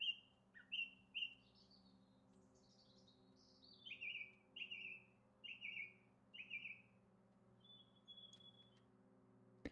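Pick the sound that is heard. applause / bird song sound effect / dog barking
bird song sound effect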